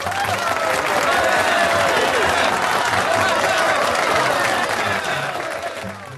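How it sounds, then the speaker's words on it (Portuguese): A school audience applauds after a student group's history presentation, with loud sustained clapping and some crowd noise and cheering, fading slightly at the end. "Muito bem, aplausos!"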